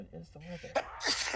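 A single close, sharp sneeze bursts out during a tabletop role-playing game session, right after a person finishes a short spoken question and followed by a breathy exhale.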